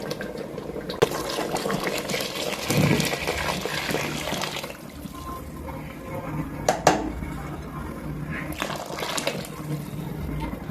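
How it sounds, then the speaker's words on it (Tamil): Water is poured onto rice in a pressure cooker for mushroom biryani, a continuous splashing pour with some clatter and a few louder bumps, and a voice speaks now and then. "7 உலக்கு தண்ணி ஊற்றணுங்க."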